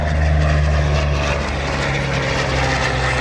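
A P-40 Kittyhawk fighter plane flies a display at the Central Coast Airshow 2022, its piston engine giving a loud, steady propeller drone that stays constant throughout.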